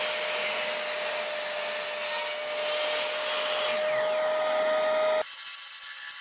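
Saw cutting a piece of beech to length, a steady loud whining rasp running several seconds before cutting off into a quieter hiss.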